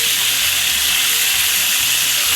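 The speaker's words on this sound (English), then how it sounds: "We're just going to turn it over now and cook the other side until it's well done." Duck pieces fry in a stovetop pan with a loud, steady sizzle that holds evenly throughout, with a faint low hum underneath and no voices.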